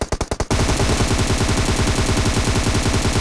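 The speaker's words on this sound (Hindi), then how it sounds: "इस बंदे के मैंने यहाँ से गोलियां मारनी शुरू करी" A short burst of rapid gunshots, then sustained automatic fire in a fast, steady rhythm, loud and close, with game-like punch, in BGMI.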